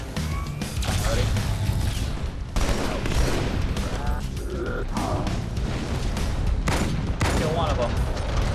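Enemy gunfire in the Halo 2 Anniversary video game rattles nonstop in dense, loud bursts and impacts, layered with crashes and battle noise throughout.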